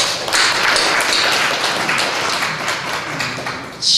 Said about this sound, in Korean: 축하 박수 드리겠습니다.